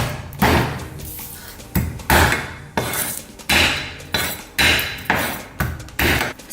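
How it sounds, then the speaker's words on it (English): A knife chops garlic on a cutting board in a home kitchen, giving sharp, close knocks in a fairly steady rhythm of roughly one to two per second, each with a brief ringing decay. "So first you're going to do is chop up some garlic."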